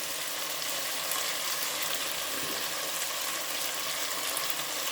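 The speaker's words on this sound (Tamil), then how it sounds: "கொஞ்சம் நல்லாவே எண்ணெயில் வதங்கட்டும் காய்" Potatoes and parboiled peas fry in oil in a pan, giving a soft, steady, continuous sizzle that stays fairly faint throughout, with no voices.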